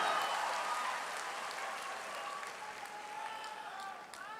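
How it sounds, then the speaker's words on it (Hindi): Audience applause for Madhukar Sir at a large IAS civil services seminar in Bihar, a dense, steady wash of clapping throughout, with a few whistles and cheers rising over it near the end. "जोरदार ताली मधुकर सर के लिए"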